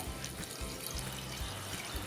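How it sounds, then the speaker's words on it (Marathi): Ground spice paste water pours steadily into a pot of mutton curry, a soft continuous watery rush with faint low gurgles, fairly quiet and with no talking. "त्याचं पाणी आहे ते घालूया"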